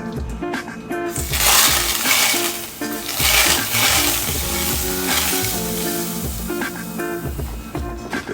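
Butter sizzling and frying in a very hot pan on a stovetop, a loud steady crackling hiss with bursts of spattering throughout, up close and without speech.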